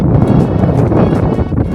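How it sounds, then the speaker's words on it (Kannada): Strong wind gusting across a hillside lake near Chitradurga, a steady loud roar buffeting the microphone throughout with no voices. "ತುಂಬ ಗಾಳಿ ಬೀಸ್ತಾ ಇದೆ."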